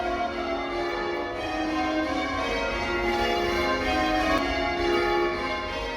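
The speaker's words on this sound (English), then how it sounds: "14 bells regularly ring out across the young city." Church bells ring out from the bell tower of St. Mary's, built in 1868, a dense, sustained peal of many bells with rich overlapping tones, loud and continuous throughout, with no voices.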